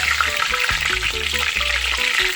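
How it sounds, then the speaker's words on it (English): Turkey wings sizzle loudly as they brown in a frying pot for Jamaican stewed turkey wings, a steady close crackle with stirring and no talk. "I'm finished browning up now guys"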